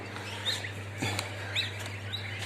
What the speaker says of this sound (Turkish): Cik cik diyor.